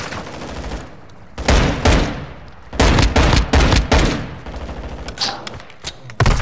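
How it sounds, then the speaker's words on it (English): Gunfire in the Call of Duty DMZ video game on Ashika Island: loud bursts and volleys of automatic shots crack in close, separated by brief lulls, with one last burst at the end. "Down, shoot him, Mantis. Come shoot him."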